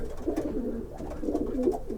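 Racing pigeons coo in a low, continuous burbling chorus, several birds close by in overlapping rolling calls.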